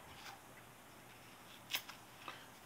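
Scissors snipping a pencil-width bunch of hair off a hide while tying a Griffith's Gnat fly, a couple of quick, crisp, close cuts over a quiet background.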